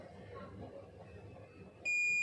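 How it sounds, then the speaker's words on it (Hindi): Multimeter continuity beep while probing both ends of a mobile phone coil: a steady electronic tone sounds near the end, loud and sustained over a noisy background, with no voices. "मल्टीमीटर को बीप की रेंज में कॉइल के दोनों सिरों पर रखने पर हमें बीप का साउंड आना चाहिए।"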